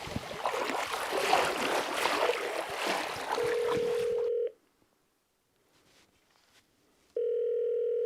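A phone call to a Savage Gear adviser from a fishing trip in Swedish Lapland: a steady ringback tone sounds in a long burst, breaks off into near silence, then starts again, with the first tone cut in over loud outdoor rushing noise.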